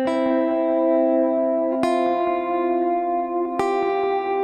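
Clean-toned electric guitar plays a worship lead line for the verse of a song, with sustained ringing notes freshly picked three times in a repeating pattern and a touch of reverb, heard alone.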